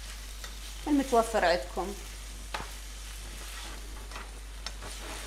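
Vegetables and mushrooms are stirred in a frying pan for a sweet and sour dish, with a soft sizzle and occasional scraping under a brief stretch of speech.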